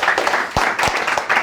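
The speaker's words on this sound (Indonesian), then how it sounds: "Berikan sorak-sorai buat Tuhan" A church congregation claps in praise. A short burst of dense, fairly close hand claps carries a few sharper individual hits within it.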